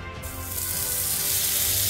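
Butter sizzles steadily in a very hot pan before eggs go in, a close, bright hiss that swells slightly louder over a couple of seconds.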